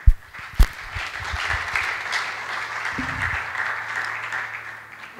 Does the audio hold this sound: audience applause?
yes